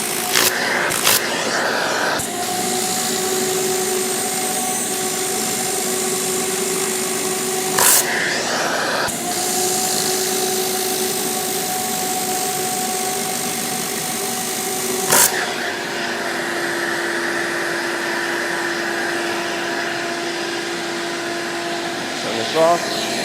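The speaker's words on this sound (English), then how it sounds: "All I'm using is the vacuum and the air." A Rupes Air Jet pad cleaner runs steadily with a whining vacuum and a rush of blown air, used dry on a polishing pad. The noise halts briefly twice and then resumes, with someone talking over it.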